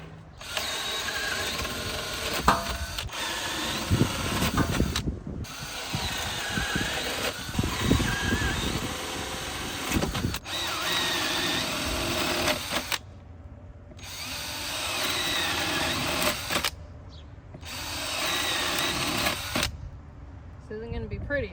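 A power tool drills and cuts vent-fan holes in a van wall for a 12v fridge installation, running in long buzzing bursts with short pauses, close and loud, with someone talking between cuts.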